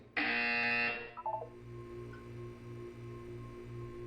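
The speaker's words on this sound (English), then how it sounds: "When you hear the buzzer, look up at the ceiling." A loud, harsh electronic buzzer from the video game Portal 2 blares for about a second, then cuts off, leaving a low steady hum and faint pulsing tones.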